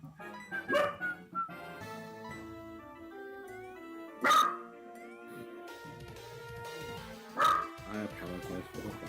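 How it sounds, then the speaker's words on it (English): A dog barks in sharp, loud bursts spaced several seconds apart, close to the microphone, over steady background music from a Pokemon SoulSilver game. "I apologize for the barking."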